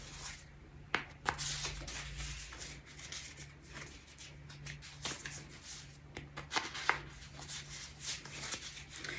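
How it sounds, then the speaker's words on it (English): A deck of game cards is mixed by hand, giving soft continuous rustling and sliding with a few sharp snaps and taps. The sound is quiet and close, with a steady low hum underneath and no talk. "I'm just going to go ahead and mix up the cards."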